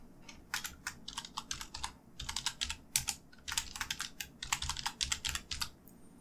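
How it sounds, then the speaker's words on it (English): Someone types on a computer keyboard, quick bursts of crisp keystrokes in irregular clusters with short pauses, close and clear against a quiet background. "I'll press Enter on my keyboard."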